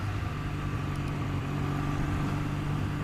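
A Triumph Thruxton motorcycle with a roughly 900cc engine runs at a steady low idle, a continuous near rumble with no talking.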